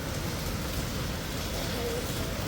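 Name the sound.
heavy rain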